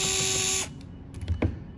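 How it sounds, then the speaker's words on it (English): A powered screwdriver briefly whirs, then stops with faint clicks and handling, while removing Phillips screws from a steering wheel faceplate on a 2nd-gen Acura NC1 NSX; close and short. "we're gonna remove these 2 screws really quick"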